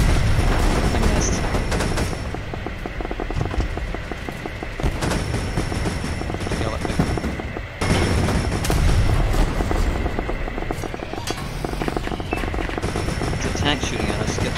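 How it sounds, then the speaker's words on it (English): Tank cannon and machine-gun fire in Roblox Multicrew Tank Combat, a sustained rapid rattle of shots with heavy booms at intervals, loud and close, with voices talking underneath. "It's a tank shooting at us."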